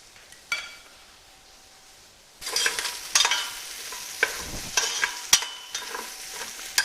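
Onions browning in a pan while cooking a turkey sauté, with a quiet start followed by steady close sizzling and repeated scraping stir strokes from a utensil.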